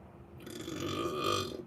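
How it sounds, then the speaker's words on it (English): A single close, low burp rises and lingers for over a second during a yoga breathing exercise, heard alone with no talk. "Burp it out"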